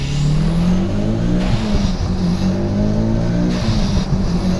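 A turbocharged Mitsubishi Evo engine pulls hard under boost, a loud, close, continuous drone that rises steadily in pitch as it accelerates, with no talking.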